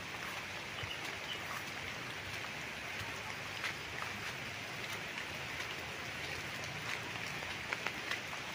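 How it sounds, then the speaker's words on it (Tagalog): Steady rain under an overcast sky beside a roadside property in Pila, Laguna, a dense, even hiss that runs without a break, with no voices. "Kasi tuloy-tuloy po ang ulan."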